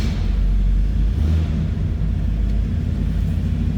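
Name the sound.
1972 Oldsmobile Cutlass Supreme engine starting and running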